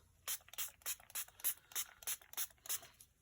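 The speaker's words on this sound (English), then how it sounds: "So I'm going to go ahead and spray this" An aerosol spray can hisses across an art journal page in about ten short, evenly spaced bursts, close and crisp, with quiet gaps between each spritz.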